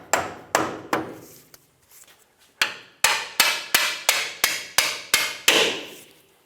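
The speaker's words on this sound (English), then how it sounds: "tap our bolt through" A hammer taps a bolt through a steering rack bushing on a 2000-2006 Toyota Tundra: three sharp metallic strikes, a short pause with faint clinks, then about nine evenly spaced, ringing blows close by.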